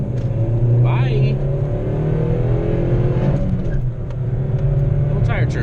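A small car pulls away hard from a green light, engine rumbling and revving loudly up close as the tires give a brief chirp, with a few faint squeaks over the steady drone.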